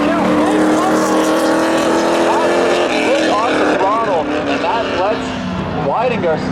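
1994 Trans Am race cars at a spectator drags thrill show, engines roaring loud and sustained with rising and falling revs under continuous excited commentary.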